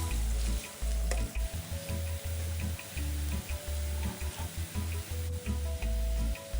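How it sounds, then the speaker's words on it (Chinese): Thinly sliced shallots sizzle in oil over medium heat with a steady bubbling hiss, joined by a low pulsing hum from the stove, close and fairly quiet. "再将葱片冷油下锅，然后炉开中火，一直油炸至金黄色。"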